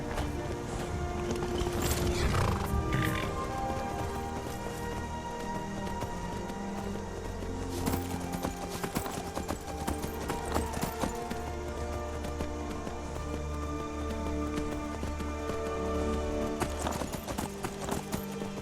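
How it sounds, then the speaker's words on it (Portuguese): Horse hooves clip-clop steadily at a gallop in the Skyrim game, with a brief whinny near the start, running continuously over game music and ambience for the whole stretch. "Tá, vamos de cavalo mesmo, vai."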